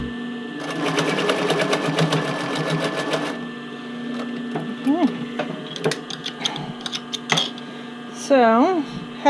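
Sewing machine stitching a fake cover stitch hem on a tank top, a close, rapid mechanical run for about three seconds, then short start-stop bursts with whirring motor hum between.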